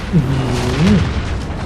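A loud, booming grenade explosion in Call of Duty: Modern Warfare rumbles briefly and decays, with a voice sliding in pitch over it.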